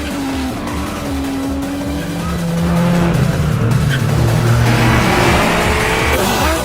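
Race cars roar closer with rising engine whine and squealing tires as they corner, loud and growing nearer over several seconds.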